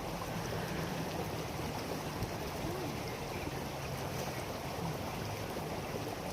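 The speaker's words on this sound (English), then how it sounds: "the sound of the river as we go past. You listen to that lovely flowing water." Steady rushing of flowing river water, broad and continuous throughout, with a faint low engine-like hum underneath.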